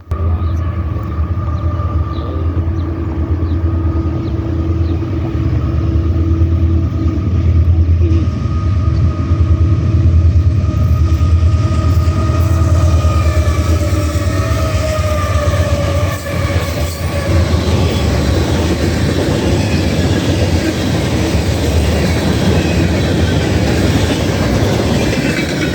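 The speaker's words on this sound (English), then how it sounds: "Next up is a CSX westbound, which is a general merchandise." A CSX westbound general merchandise freight train rolls past loudly and continuously, wheels rumbling and clacking over the rails with occasional squeals, sustained for the whole stretch.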